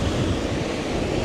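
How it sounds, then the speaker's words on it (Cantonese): Strong wind blows at the seaside on the coast near Kamakura, Japan, a dense, constant roar buffeting the microphone with surf mixed in, loud and unbroken. "哇，好大風啊！"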